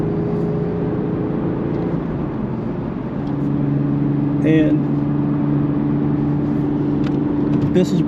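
A 2008 Porsche 911 Targa 4 cruises on the highway, its engine and road noise forming a steady, loud cabin drone while someone talks over it.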